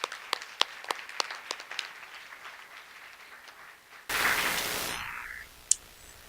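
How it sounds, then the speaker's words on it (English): A few scattered hand claps from a small audience at a board meeting, thinning out and fading, then a burst of broadband noise with a single sharp click. "one more hand of applause"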